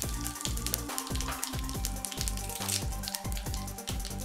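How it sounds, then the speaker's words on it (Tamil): Mustard seeds, urad dal and asafoetida sizzle and crackle in hot oil for a kitchen tempering, a dense continuous fry with rapid popping bursts close up, no voices. "இப்போ வந்து கடுகு, உளுத்தம் பருப்பு போட்டுக்கலாம். பெருங்காயம் போட்டுக்கலாம்."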